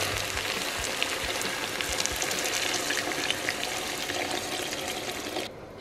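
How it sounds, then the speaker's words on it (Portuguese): Water poured over sauce ingredients with sage in a cooking pot, giving a steady, close, dense sizzling and splashing rush that runs continuously and stops abruptly near the end. "Aí agora a gente vai cobrir com água."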